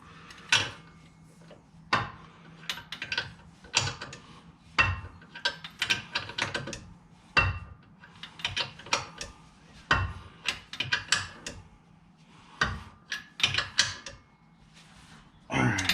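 Ratchet tightening bolts on an Infiniti G35 differential brace, rapid bursts of clicking with brief pauses between strokes, close and fairly quiet, with occasional clanks of metal.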